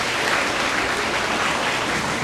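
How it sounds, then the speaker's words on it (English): Dense, steady applause from an audience at a veterans' honoring ceremony, a full, even wash of clapping that holds at the same level for the whole stretch with no voices standing out. "Another round of applause for Mr. Mowbray."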